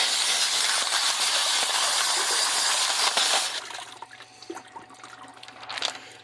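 Water streams and splashes over freshly tumbled rocks after a medium-grit stage, a steady loud wash for about three seconds that then cuts off, leaving quieter drips and faint clinks of wet stones.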